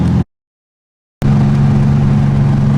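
A Volkswagen Beetle engine, freshly tuned up with a new distributor cap and rotor, runs with a steady, loud, close mechanical drone, broken by a full second of silence early on before resuming.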